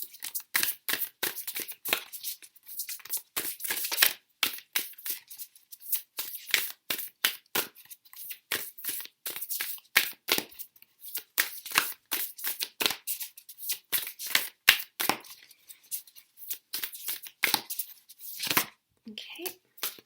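Oracle cards shuffled by hand in quick, uneven riffling bursts, crisp papery flicks repeating steadily with brief pauses between handfuls.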